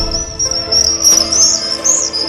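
A small bird chirps near its nest in a tree, a loud, steady run of high, rapid tweets, close by, with faint insect buzz behind.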